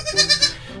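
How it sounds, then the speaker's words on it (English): A week-old baby goat lets out a brief, shaky, high bleat close by, pulsing in three quick wavers before fading. "That's a baby goat."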